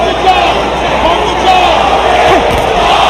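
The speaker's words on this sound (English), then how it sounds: "Crowd trying to encourage their man." A boxing arena crowd roars and cheers to urge on its fighter during the Hopkins versus De La Hoya bout, a continuous loud wash of voices under a commentator talking.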